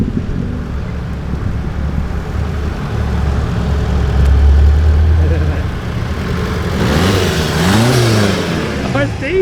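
A 700 bhp time attack Mazda MX5 with a diesel engine idles and then revs hard, the pitch rising and falling in sweeping surges, loud and close with wind buffeting the microphone and voices talking over it.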